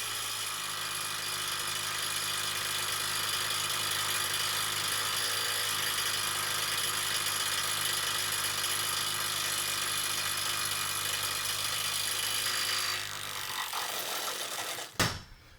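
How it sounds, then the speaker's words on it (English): A Milwaukee M12 FUEL stubby impact wrench with a 2 Ah battery on its highest speed setting hammers steadily at a seized fastener for about thirteen seconds, a loud continuous buzzing rattle that cuts off, followed by a brief sharp burst. "Let's go ahead and see how the Milwaukee with the 2 amp hour battery performs."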